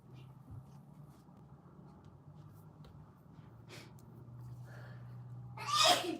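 A single short sneeze bursts out loudly near the end, over a low steady room hum and faint rustling.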